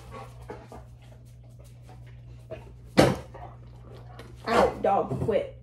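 A dog pants and whimpers up close in a room, with a soft whine, a sharp bump and a burst of breathy panting, while a person talks nearby over a steady low hum.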